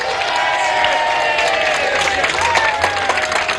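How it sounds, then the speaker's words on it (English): A pub audience applauds the gallant runners-up, Frida and Ted Loftus, at the Rovers contest, with steady, dense clapping and cheering that runs throughout at full loudness. "And another round of applause for the equally gallant runners-up, Frida and Ted Loftus."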